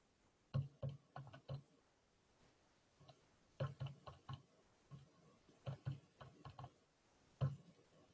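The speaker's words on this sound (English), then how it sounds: "Let me type it in here." Short bursts of key presses clatter on a computer keyboard as a number is typed, in quick clusters of clicks with brief pauses between them, quiet and close, with no voices.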